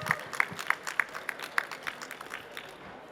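Scattered claps from a medical-travel conference audience, a sparse patter of individual hand claps rather than a full ovation, fairly distant and thin, fading out over a few seconds.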